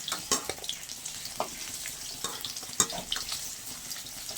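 Bhetki fish sizzling and crackling as it fries in hot oil, a steady close crackle with scattered sharp pops and light stirring, no talk.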